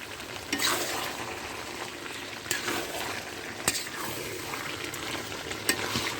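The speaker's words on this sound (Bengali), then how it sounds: "দেওয়ার পরে আপনারা এভাবে নেড়ে চেড়ে নেবেন।" A shrimp and bottle gourd curry with cashew and spice paste, cooked in milk with neem leaves, sizzles softly in a pan while it is stirred, with occasional sharp scrapes and clinks of the spoon over a steady bubbling hiss.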